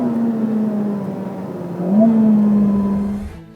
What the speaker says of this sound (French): Première accélération franche, c'est hallucinant de capacité de mise en vitesse, de couple et de puissance.